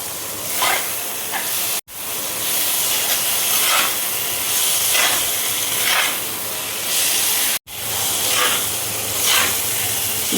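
Chopped onion dropped into a hot pan of spices while cooking bhindi do pyaza, giving a loud, steady sizzling hiss that swells in several bursts and runs continuously, with two brief cuts.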